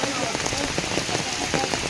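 Steady rain pours down onto a surface in a dense, continuous hiss with scattered drop impacts, loud and close throughout, with a faint voice barely present underneath.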